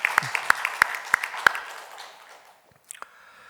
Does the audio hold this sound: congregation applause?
yes